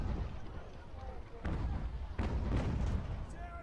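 Cannon fire on a Revolutionary War battlefield in Ultimate General: American Revolution, several distant booms and thuds over a rumbling backdrop, with a voice talking over it.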